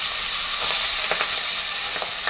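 Papdi flat beans with asafoetida are sautéed in a hot pan, giving a loud, continuous close sizzle with a few soft stirring scrapes.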